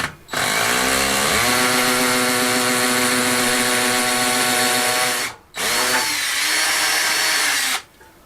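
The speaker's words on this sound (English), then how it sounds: "So I'm going to attempt to drill through these holes." A power drill with a thin masonry bit bores through holes into a wall, loud and close. It whines steadily for about five seconds, pauses briefly, then runs again for a shorter burst.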